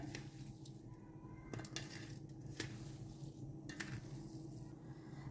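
Spiced potato taco filling with garlic and chili being stirred in a bowl, with soft, quiet squishing and light scraping of a spoon against the bowl at close range.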